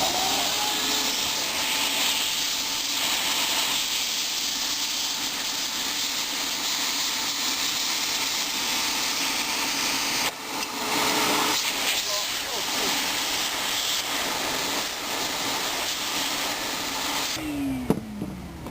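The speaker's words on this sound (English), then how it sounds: "blow out the track, put my shop vac on the exhaust mode and blow it out" A shop vac running in exhaust mode blows out an RV window track, giving a continuous, airy whoosh and motor whine that holds steady, with a brief change in pitch midway.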